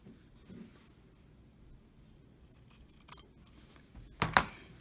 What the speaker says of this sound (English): I'm going to take my pair of scissors and we are going to trim the corner of the fabric